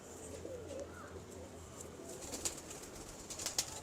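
Soft cooing from a Sheikhupuri pigeon sitting near its loft, faint and low against a quiet background hiss, with a few light rustles toward the end.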